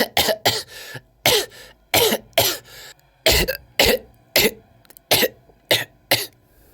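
A man coughs in a long fit of about a dozen harsh, hacking bursts, spaced in uneven pairs and clusters, loud and close with short silent gaps between.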